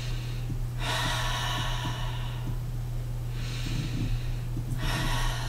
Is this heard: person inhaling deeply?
yes